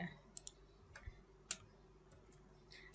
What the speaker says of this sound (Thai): เราดับเบิลคลิกค่ะ